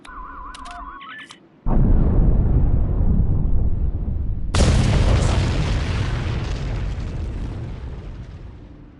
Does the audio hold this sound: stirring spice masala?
no